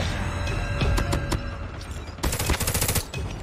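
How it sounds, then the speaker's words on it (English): A deployed sentry gun in Call of Duty Mobile fires loud, rapid automatic bursts, a few short volleys early, then a sustained stream of shots near the end, mostly without talk. "Sentry gun deployed."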